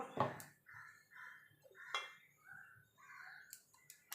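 A metal wok set onto a gas stove in a home kitchen gives a few sharp clanks and clinks between quieter scraping sounds, fairly close and moderately loud.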